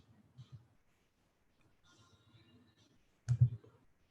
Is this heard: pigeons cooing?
no